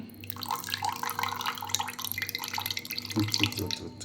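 Lemon juice poured slowly through a strainer while making evening snacks, giving a steady trickling, splashing stream over a constant low hum in a kitchen.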